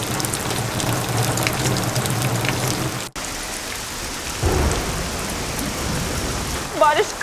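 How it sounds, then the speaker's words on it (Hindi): Heavy rain pours steadily onto surfaces, a dense close hiss with low rumbling beneath, briefly cut off once, then returning with spattering drops; faint voices and clatter surface near the end. "बारिश कब रुकेगी?"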